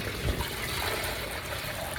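Steady splashing rush of water, like liquid being poured, continuous and fairly close, with no voices.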